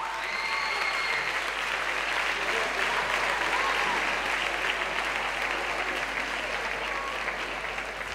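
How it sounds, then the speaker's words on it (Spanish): Strong, continuous audience applause for a ballet troupe's dancers at an outdoor town festival ceremony, a dense even roar of clapping from a large crowd with faint voices mixed in. "vuelvo a pedir un fuerte aplauso para ellas."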